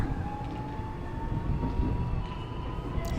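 A Jakarta commuter train, formerly used in Japan, rumbles steadily nearby, a continuous low roar with a faint high tone running through it and no talking.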